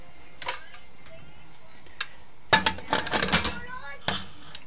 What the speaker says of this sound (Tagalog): So takpan muna natin guys.